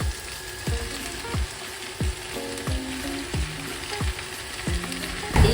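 Chicken frying in a pan with sautéed onions, a steady soft sizzle broken by a series of regular clanking knocks from stirring, roughly one every second, with no talk.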